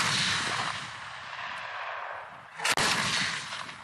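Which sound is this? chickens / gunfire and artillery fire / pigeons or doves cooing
gunfire and artillery fire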